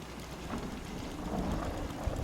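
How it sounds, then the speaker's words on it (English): Rain and rolling thunder in the Fallout 4 game world, a dense steady downpour hiss with a low rumble underneath, loud and continuous with no talking. "Every time I hear thunder now, I'm all paranoid it's one of those radiation storms"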